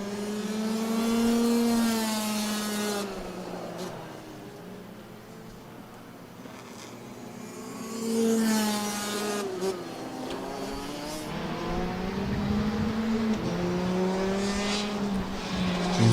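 Racing karts at an RMC Asia Trophy and RMC Thailand round, whining engines rising and falling in pitch as they accelerate past, loud and close at times, with no clear tyre squeal.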